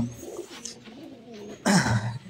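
Pigeons coo softly at close range, low murmuring calls that swell louder near the end with a rustle of movement.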